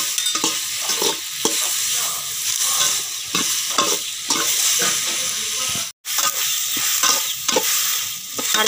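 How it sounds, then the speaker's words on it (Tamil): Tomatoes and onions sautéing in a pan for a Tamil fish curry, a loud, close sizzle with a steady hiss and regular scraping strokes of a spoon stirring, broken by one brief pause. "அதையும் சேர்த்து நல்லா வதக்கிக்கணும்."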